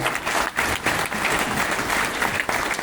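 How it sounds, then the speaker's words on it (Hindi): Loud, dense audience applause from a large crowd at a motivational event, a continuous roaring wash of clapping with slight dips, nearly free of voices. "एक बार जोरदार तालियां"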